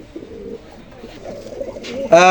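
Pakistani high-flyer teddy pigeons coo in low, rolling murmurs close by, growing louder toward the end, with someone speaking over them.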